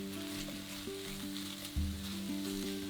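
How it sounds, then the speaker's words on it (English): Chorizo chunks and minced garlic frying in a one-pot pasta dish, a steady close sizzle that runs throughout with a low hum underneath and a brief stirring bump. "cook for a further 2 minutes until the chorizo starts to release its oils"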